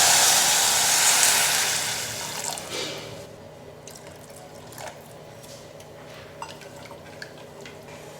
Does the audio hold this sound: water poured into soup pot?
yes